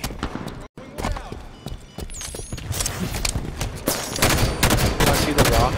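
Rapid SMG bursts crackle through a Halo 5: Guardians multiplayer match, with repeated short volleys growing denser toward the end, mixed with other battle noise and occasional voices.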